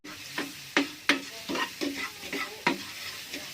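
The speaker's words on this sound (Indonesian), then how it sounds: "Di sisi lain, saya akan menumis bawang putih setengah matang." Garlic being sautéed half-cooked in a pan, a steady sizzle broken by repeated scraping stirs about every half second, close and clear with no talking.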